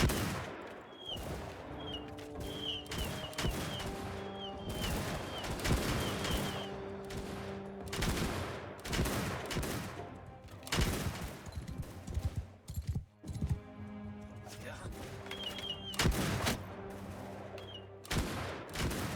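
Gunners fire volleys in a Shokuho video game battle: repeated crackling musket fusillades, dense and mid-distance, over steady game music and ambient battle noise.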